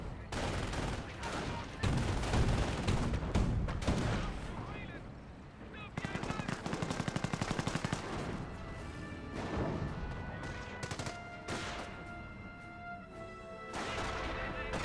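Gunfire from armoured cars and snipers during a Company of Heroes battle in World War II: dense, continuous bursts of shots and crashes mixed with a commentator talking throughout.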